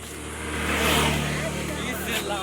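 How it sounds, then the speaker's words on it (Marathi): A vehicle approaches along a road in rural Konkan, its engine swelling to a peak and then easing, heard under nearby people talking. "हे बाजूला अरे गाडी येत आहे"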